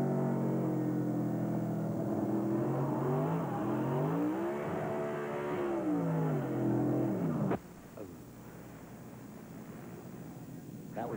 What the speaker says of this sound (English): You can hear those RPMs really wind up as Boris nailed the throttle